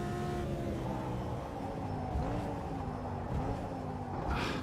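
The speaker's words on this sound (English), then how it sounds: "the engine noise" Race car engine in the Automobilista 2 sim racing game, a continuous whining, revving drone rising and falling through gear changes, faint and steady with no talk.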